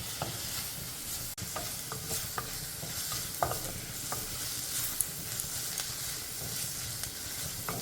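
Pearl spot fish frying in a pan while being stirred, a soft steady sizzle with scattered scraping and tapping of a utensil against the pan, fairly quiet and with no voices.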